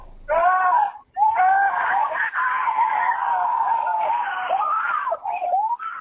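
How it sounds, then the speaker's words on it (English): Children scream in panic, high-pitched and close, in a continuous wailing burst that runs nearly unbroken with only a brief catch of breath, captured over a voicemail recording after their father, a police officer, was shot in an ambush near his patrol car. "His children's screams lasted for more than a minute."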